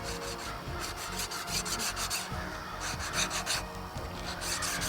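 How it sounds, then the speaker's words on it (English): A planer blade is rubbed flat across a diamond sharpening plate to take off a burr, making a steady, close scraping rasp in repeated back-and-forth strokes with no talk. "I will be removing it by putting the planer blade flat on the diamond plate here"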